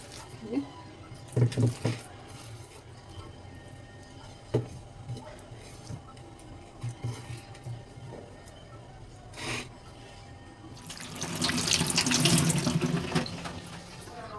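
Tap water runs into a sink while potatoes are soaked, a splashing gush that swells loud near the end after quieter rubbing and clattering sounds, with a voice speaking at times.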